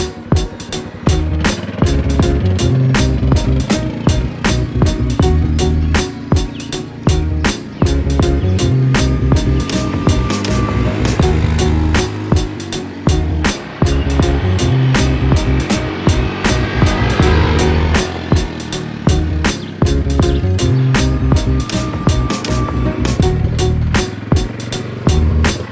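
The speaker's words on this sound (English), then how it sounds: "you have fun driving this Yamaha Kodiak around?" Yamaha Kodiak 400 ATV riding along a dirt road, its engine a loud, steady drone with rattling and bumps throughout, filling the whole stretch without pause.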